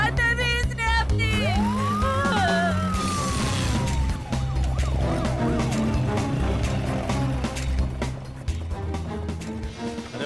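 An ambulance siren wails in rising and falling sweeps over a loud musical score with voices, fading back as the music continues.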